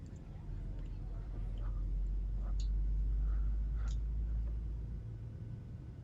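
Engine number 1 of a PMDG 737-700 spools up in a flight simulator, heard from inside the cabin over the wing. A faint, muffled low rumble swells toward the middle and then eases slightly.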